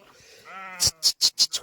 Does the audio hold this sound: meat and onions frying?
no